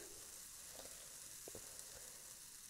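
A spoonful of semolina (sooji) batter drops into hot oil and fries with a steady, quiet sizzle, a few faint clinks of the spoon sounding over it for a breakfast snack.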